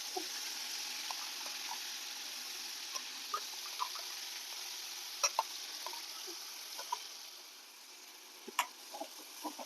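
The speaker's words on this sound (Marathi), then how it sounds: "आता हे वाटण आपण तेलावर चांगलं परतून घेऊया" Green chilli paste sizzles faintly in hot oil with cumin and asafoetida in a home kitchen, a soft steady hiss with scattered small pops and crackles throughout and no talk.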